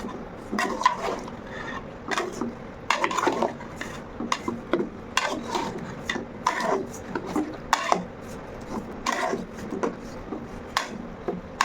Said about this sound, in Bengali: আগে মাংসটা ভালো মতো কষায় নিব।